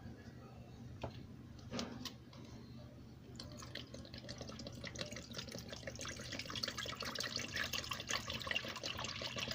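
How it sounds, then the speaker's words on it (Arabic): A kilo of milk is poured into a pot for a chilled strawberry dessert cup made with cornstarch and sugar, giving a steady liquid splash and trickle that builds gradually and continues to the end. "هنزل بكيلو اللبن هنا"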